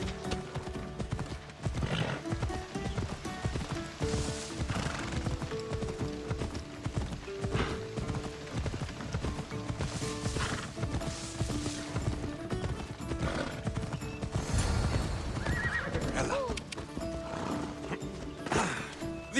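Horse hooves clip-clopping steadily and close over busy background noise, with a brief whinny near the end.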